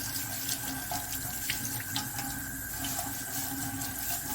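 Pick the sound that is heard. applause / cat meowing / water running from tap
water running from tap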